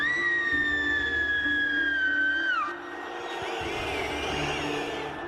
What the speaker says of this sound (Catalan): Cada 5 segons algú xiula.